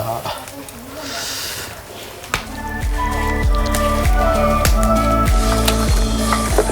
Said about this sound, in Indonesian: sate yang udah ditusukin, pada saat mau dibawa berangkat ke tempat jualan harus direbus, dimasukin seperti ini